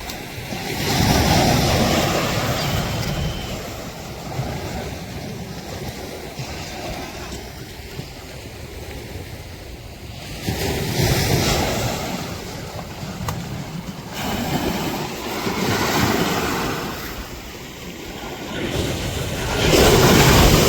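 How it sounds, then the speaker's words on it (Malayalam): Sea surf surging against the shore at Anchangadi on the Kerala coast during a fishing outing, with rough water and steady wind noise; broad washing swells rise and fall in several waves across the clip. "കടൽ കുറച്ച് കൂടുതൽ തന്നെയാണ് ചെറുതായിട്ട് ഇങ്ങനെ അടിക്കുന്നുണ്ട്"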